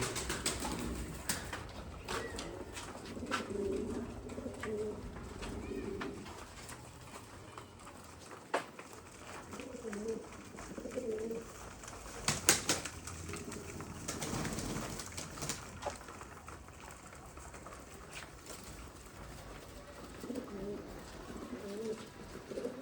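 Soft, repeated pigeon cooing in low rolling bursts in a loft in cold weather, with occasional wing flutters and light background clatter; a voice briefly speaks now and then.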